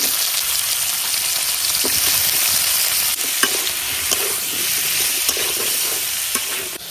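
Potatoes frying and sizzling in hot oil with ginger paste in a home kitchen, a steady close hiss with occasional stirring clicks and scrapes, no voices.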